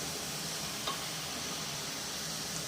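A soft, steady hiss of boiling water pouring into semolina in a hot pan, sizzling evenly throughout with no talking.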